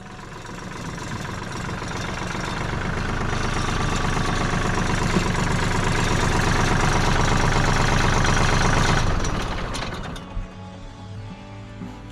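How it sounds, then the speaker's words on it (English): A tractor engine idles steadily and loudly for about nine seconds with a rough, knocking low rumble, then is shut off and quickly winds down to quiet. "turning off the tractor so hopefully you guys can hear me a little better"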